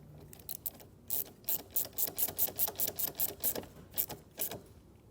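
A ratchet wrench clicks in rapid, regular bursts while tightening a nut on a brake controller mount in a 2023 Jeep, close and crisp, with short pauses between strokes.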